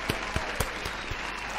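Brief burst of applause in the video game The Quarry, steady clapping with a few sharper claps standing out, short and moderately loud.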